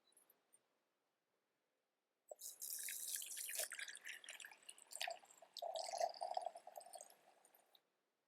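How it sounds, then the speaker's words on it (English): Cold water pours and trickles into flour in a bowl for bread dough, a soft, steady splashing stream lasting several seconds after a quiet start, close and faint. "I'm going to start adding this water to it"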